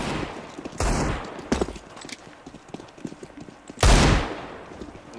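Gunfire in the game CS:GO: a few sharp, loud shots spaced apart, with a big burst near the end and quieter footsteps and game noise between them, no talk.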